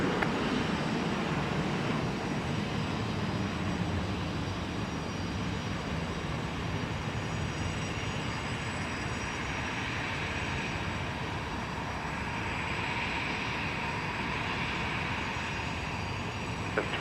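A jet airliner's engines roar steadily on takeoff from runway 12 right at Minneapolis–St. Paul Airport, a broad continuous rumble that holds at a near, constant loudness for the whole stretch with no talk.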